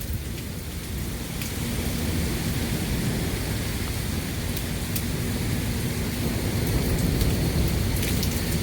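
A severe thunderstorm over Dauphin Island, Alabama, brings dense, steady rain hissing and pattering on surfaces, with a low continuous rumble underneath and no voices.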